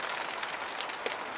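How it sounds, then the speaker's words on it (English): Rain on a tarp over a bushcraft camp shelter, a dense close pattering with scattered louder drops landing on the sheet. "You can hear the rain on the tarp."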